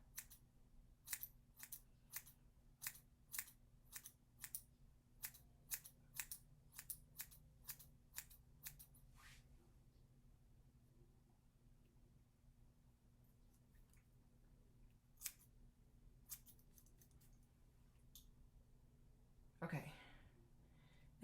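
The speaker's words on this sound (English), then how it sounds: "So here now I'm gonna just point cut to try to get some of that length off." Close metallic snips of scissors point cutting a woman's pixie haircut, a quick run of about fifteen crisp snips, then a quiet stretch with a few scattered cuts and a brief rustle near the end.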